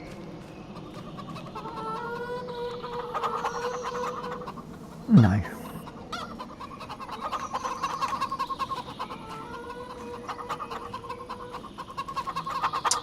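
Chickens clucking in Farming Simulator 25, a steady run of soft farmyard clucks and murmurs with a brief louder squawk midway, under light ambience while a voice says a single word.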